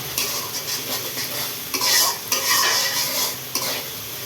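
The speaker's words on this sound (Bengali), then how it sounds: "পেঁয়াজ আর আদা রসুন আমি ভাজা ভাজা করতেছি সুন্দর করে" Chopped onion, ginger and garlic fry in a pan with a loud, steady sizzle, broken by repeated scraping stirs of a utensil. Nobody speaks.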